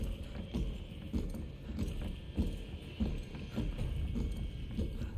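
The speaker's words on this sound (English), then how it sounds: "Oh yeah, I hear those footsteps." Footsteps in the Resident Evil 2 Remake video game: a steady run of heavy, rhythmic thuds over a dense, rumbling background ambience, loud and continuous without talk.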